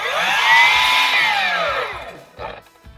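A power saw cuts a bevel into a piece of timber for a stair top rail, a loud, close, whining drone for about two seconds that winds down, followed by brief knocks and clatter.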